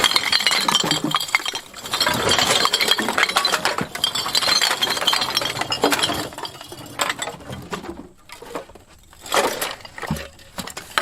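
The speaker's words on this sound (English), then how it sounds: "Tons of brown glass bottles, beer bottles." Heaps of brown glass beer bottles clink and clatter during a property cleanup, with dense irregular glassy knocks and rattles, some crunching breakage, loud and close, fading into sparser clinks near the end.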